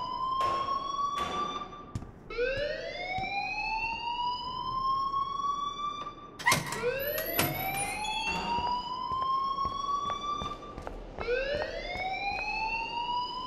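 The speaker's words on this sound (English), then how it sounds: "please turn off that alarm since that's your job" A school fire alarm in Life Is Strange blares as a repeating rising electronic whoop, each sweep climbing in pitch over about two seconds before restarting. It is loud, close and continuous, with no talk over it.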